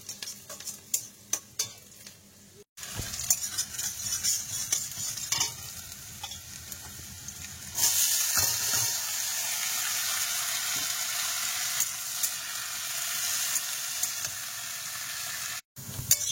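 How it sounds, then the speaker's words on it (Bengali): Bitter gourd and potatoes frying in hot oil in a Sundarbans home kitchen, a steady close sizzle with repeated scraping stir strokes and utensil clinks, growing louder and denser partway through. "এখন উচ্ছে আলু ভাজা করবো"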